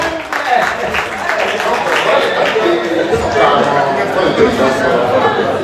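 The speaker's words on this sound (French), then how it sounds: "Applaudissez-moi" An audience at an award ceremony for an exemplary couple applauds in a loose, continuous patter, with voices talking over the clapping throughout.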